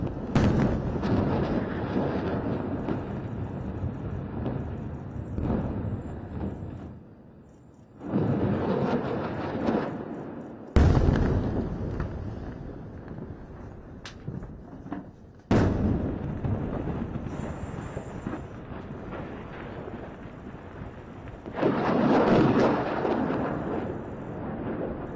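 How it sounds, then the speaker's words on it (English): Airstrike explosions in news footage of a relentless barrage roll out as repeated deep, booming blasts with long rumbling tails, heavy and sustained with brief lulls between. "These ground troops are getting aerial support with the IDF's relentless barrage of airstrikes."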